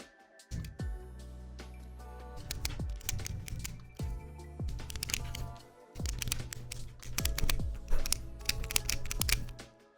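A clicky Magic: The Gathering life counter dial turned by hand, giving rapid ratcheting plastic clicks in several bursts with short pauses, close and fairly loud, with no talk.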